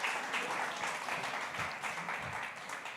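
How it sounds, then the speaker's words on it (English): Audience applause at the Fak'ugesi 2022 festival session, a soft, even patter of many people clapping, sustained for a few seconds and tapering slightly toward the end. "let's give Dr. Tegan a big round of applause"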